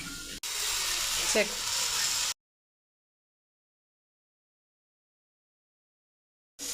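Chicken hits hot onion masala in a clay pot, sizzling and hissing for about two seconds, fairly loud, then the sound cuts to silence before returning briefly at the end.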